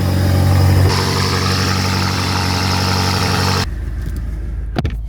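A BMW car engine idles with a loud, steady low rumble that shifts slightly in tone early on, then drops to a quieter hum for the last second with a brief knock.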